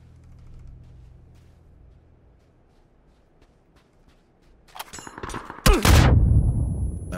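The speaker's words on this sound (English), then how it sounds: "That was a nade." A grenade going off in PUBG. Quiet faint shots give way to crackling gunfire, then a sudden loud blast with a deep rumbling tail that lingers to the end.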